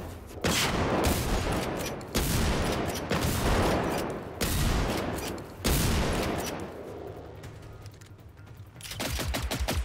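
Shotgun blasts from the video game Generation Zero ring out in a rapid, loud burst of repeated shots, with several heavy reports spaced a second or so apart over continuous combat noise.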